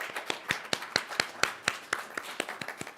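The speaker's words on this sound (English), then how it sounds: "Can we give these people a round of applause" Scattered hand claps from a small audience at a town hall gathering, individual sharp claps at an uneven rhythm, moderately faint with no voices over them.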